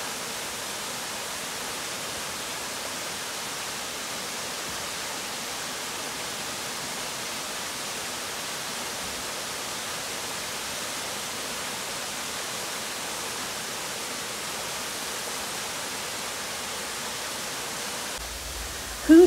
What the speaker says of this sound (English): we can hear the water because we're at a waterfall